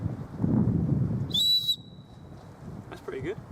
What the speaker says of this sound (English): that's got a whistle on it as well